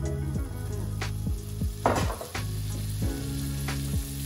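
Butter sizzles steadily in a frying pan on the stove, a continuous near hiss with a few soft clinks and stirring bumps from the pan, while chicken ballotines are about to go in.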